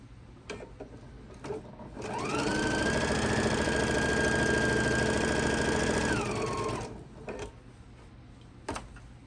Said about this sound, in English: I'm going to sew these two pieces a scant 1/4 inch down this side